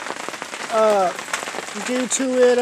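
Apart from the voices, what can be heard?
rain falling during Hurricane Harvey in Houston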